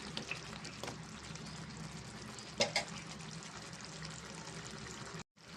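Coriander and curry leaves are stirred into a village-style crab curry, a soft continuous sizzle and bubbling with faint scraping of the spoon, steady and low throughout.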